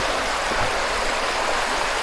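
Steady rushing water from a river pouring through a broken dam, a broad constant roar, close and continuous with no voices.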